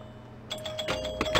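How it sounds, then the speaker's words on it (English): Bright electronic bells ring out in quick repeated strikes from a video pinball table, starting after a brief quiet lead-in and continuing close and clear. "Just some bells, that's all."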